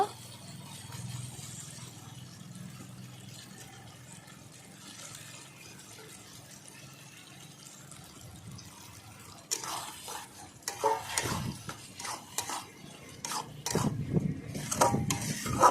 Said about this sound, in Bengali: মশলাটা ভালো করে কষিয়ে নিয়েছি এবার আমি খাসি মাংসটা দিয়ে দেব